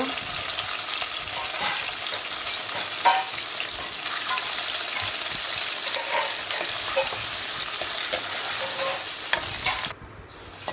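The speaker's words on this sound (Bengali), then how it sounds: "তেল গরম করতে দিয়েছি, দিয়ে এখন আমি পনিরগুলোকে একটু ভেজে নেব।" Paneer pieces frying in hot oil with chili, turmeric and garam masala, a dense continuous sizzle with scattered pops and stirring scrapes, close and loud, cutting out briefly near the end.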